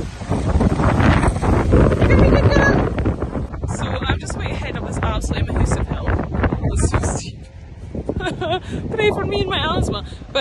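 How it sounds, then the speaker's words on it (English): Strong outdoor wind buffeting the microphone, loud continuous rumbling gusts that nearly cover a person talking throughout, with some rustling noise. "I don't even know if he's going to hear me, the wind's that strong"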